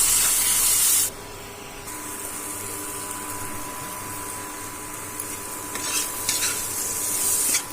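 Ginger garlic paste frying in a pan hisses with a loud, continuous sizzle, with stirring scrapes heard close up and a brighter spray of spattering at the start and toward the end, with no voices.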